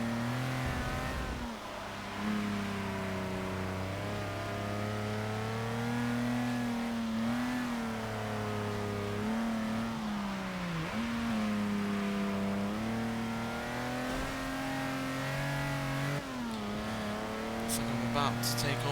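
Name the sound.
classic race car drifting sideways in the rain, Forza Motorsport 6 video game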